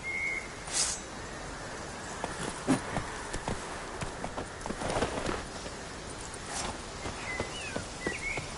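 Hoofbeats of Roach the horse galloping in The Witcher 3, an irregular, soft clip-clop moving along at a quiet level with faint game ambience and an occasional whistle-like tone.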